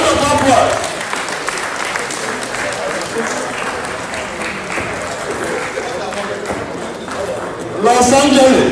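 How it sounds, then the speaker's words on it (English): A crowd at an Igbo Nigerian Catholic community gathering in Los Angeles applauds a third-place winner with continuous clapping, a swell near the end, and voices mixed in. "Round of applause."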